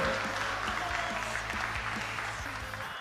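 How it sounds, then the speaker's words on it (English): A crowd claps steadily for athletes at the Lima 2023 WSPS World Championships shooting event, in dense, sustained applause that fills the whole moment at moderate distance. "Now we want to have an applause for the athletes."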